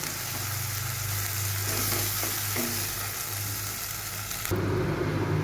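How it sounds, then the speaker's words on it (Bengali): Ground spice paste frying in a pan over a medium gas flame for a dhaba-style chicken bharta, a steady continuous sizzle with stirring scrapes, close and fairly quiet, with a brief louder burst near the end. "নিয়ে এটাকে ভালো করে আমি মশলাটাকে ভাজবো।"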